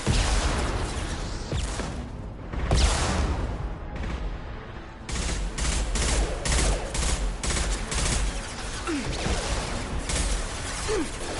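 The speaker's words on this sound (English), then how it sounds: "Firing an impact shot." Impact shot gunfire in Mass Effect 2, heard as repeated heavy blasts and bursts of weapon fire amid loud combat noise, with clusters of shots spread across the whole stretch.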